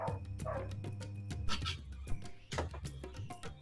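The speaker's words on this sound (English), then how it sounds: "there's a dog in my house" A dog barks several times inside a house, the repeated barks sitting under a dense, busy mix of other sound at a moderate level throughout.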